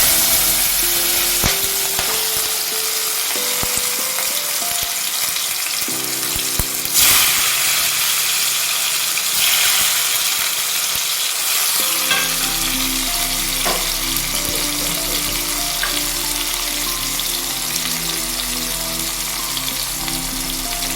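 Cloves, cinnamon and chopped tomato fry as tempering for a red lentil kofta curry, giving a loud, steady sizzle and crackle throughout, with brief stirring scrapes and clatter of a spoon in the pan, no voices.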